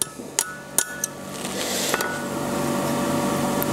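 A blacksmith hammers a small figure 8 piece near the edge of an anvil with a blunt bick, a few sharp ringing metal strikes early on, then a rising hiss-like rumble.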